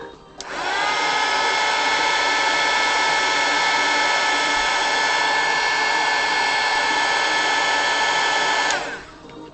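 A heat tool blows steadily while melting Crayola crayon wax onto a drawing, a loud, close, whining whoosh that switches on, holds constant for about eight seconds, then cuts off, with no talk.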